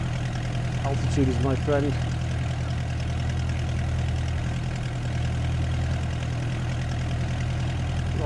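A De Havilland Chipmunk's engine idles steadily with the throttle closed on final approach, a constant low drone filling the cabin while a pilot talks over it.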